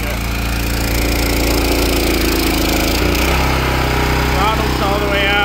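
A gas-engine power washer on a dairy farm runs at full throttle with a loud, steady droning engine note close by; the tone shifts briefly midway and a thin whine rises near the end.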